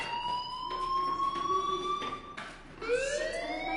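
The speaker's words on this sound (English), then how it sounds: "Hey, do you hear that fire alarm?" A fire alarm rings with a steady electronic tone that pauses briefly and then returns with a rising pitch, loud and alone with no voices.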